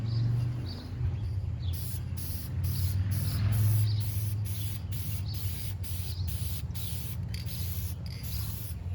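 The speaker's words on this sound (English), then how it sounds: "we're going to spray the sides down" Short bursts of spray paint hissing onto a Kia car door in a regular rhythm, about a dozen quick blasts one after another, over a low background rumble.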